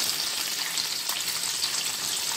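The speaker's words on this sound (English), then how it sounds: "So this is the one that is on the fire. I'm still frying this." Jollof rice frying in a pot over a fire, a steady, close hiss and sizzle that holds at an even level throughout with no voices.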